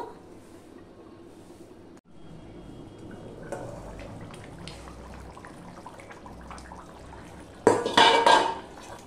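A metal lid is set onto a pot of simmering mutton curry, a sharp clattering clank near the end that follows a stretch of low kitchen clatter and bubbling.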